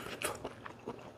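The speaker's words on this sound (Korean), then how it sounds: "씹히는 소리 장난 아니죠?" Close, crunchy biting and chewing of spicy seafood gathered at Hanagae Beach, with several crisp bursts in a short run and no talk.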